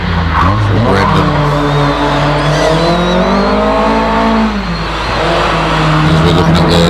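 A Datsun 180B SSS race car, driven by Josh, powers up a lakeside hillclimb. The engine sounds loud and close with rising and falling revs, and a short lift near the five-second mark before it pulls hard again.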